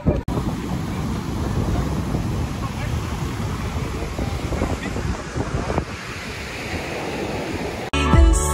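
Ocean surf on the beach at Kleinmond, a steady broad wash heavily buffeted by wind noise on the microphone, with a brief rougher gust near the end.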